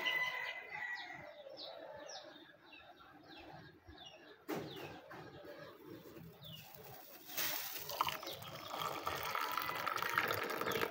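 Freshly made tea is poured from a pot into a cup. A soft liquid pour runs over low room noise, with faint bird calls in the background. No one speaks.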